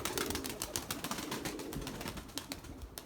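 Young pigeons fly in a flock, with soft, close flutters and light wingbeats repeating in quick irregular bursts over a quiet background.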